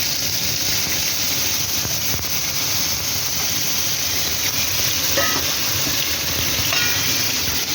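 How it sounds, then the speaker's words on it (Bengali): Water splashed into a pan of taro paste sizzles and hisses steadily and loudly throughout, a dense continuous frying roar with no voices. "এবার আমি একটু জলের ছিটে দেবো অল্প পরিমাণ জল দেবো"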